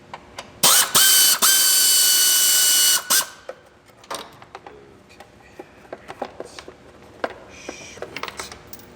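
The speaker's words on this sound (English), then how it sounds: "Left loosey. Leave the bolts in there." Ratchet wrench loosening bolts on a 2001 Hyundai Tiburon, a loud sustained clicking burst of about two seconds, followed by scattered metallic clinks and handling noises close by.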